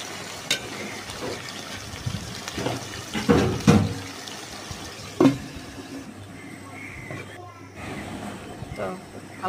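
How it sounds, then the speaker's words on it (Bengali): Hot water poured into a cooking pot of chicken being braised, a splashy liquid pour mixed with a few sharp clanks of utensils against the pot, heard up close. "তো হালকা একটু পানি দিলাম, গরম পানি দিয়েছি"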